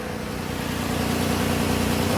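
A car engine idles after a welded exhaust repair, a steady, even low rumble with no sign of leaks, close by and growing slightly louder over the short stretch, with no talking.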